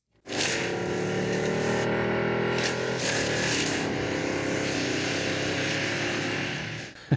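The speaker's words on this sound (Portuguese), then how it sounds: "Veja como são e como soam as trocas de marcha falsas no Porsche Taycan de 2027." Synthetic engine-like drone from a 2027 Porsche Taycan electric car's fake e-shift system, a steady loud tone with brief dips suggesting simulated gear changes, ending in a short sharp click.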